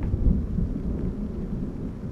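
Thunder rolling in the horror video game Layers of Fear, a low continuous rumble mixed with rain-like hiss, steady and fairly loud with no voices.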